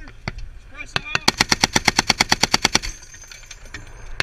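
A mounted .50 caliber machine gun fires during a live fire exercise: a few scattered shots, then one loud, close, rapid burst of about fifteen evenly spaced heavy rounds, followed by quieter background noise.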